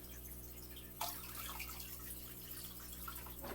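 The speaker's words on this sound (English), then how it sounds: "I'm going to add the water to this tank." Water pours into a 20-gallon fish tank set up for mollies, a steady splashing flow that starts abruptly and keeps going at an even level, fairly quiet and with no one talking.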